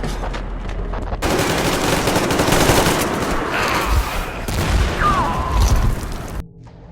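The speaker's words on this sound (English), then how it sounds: "Covering fire for the Colonel! No saving ammo!" Sustained automatic gunfire laying down covering fire in Metro Exodus, dense overlapping shots and bursts for several seconds, loud and close, cutting off abruptly.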